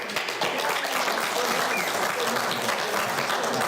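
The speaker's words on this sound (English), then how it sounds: "Please no clapping." An audience at a county board of supervisors meeting claps steadily for a few seconds, a close, even burst of applause without a break.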